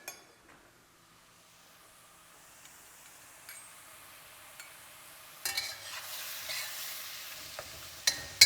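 Shallots and sauce are tossed in a pan for a Thai basil stir fry, with a soft low sizzle broken by occasional clinks and scraping stirs that grow louder toward the end.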